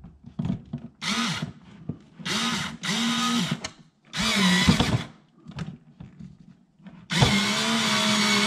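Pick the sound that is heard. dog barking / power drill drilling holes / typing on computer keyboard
power drill drilling holes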